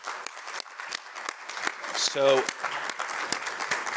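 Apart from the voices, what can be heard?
audience applause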